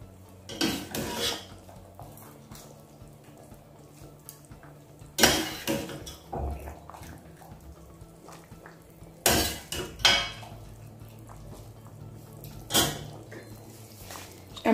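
A spoon stirs black-eyed bean stew in a metal pot, giving several loud clanks and scrapes in separate bursts between quiet stretches.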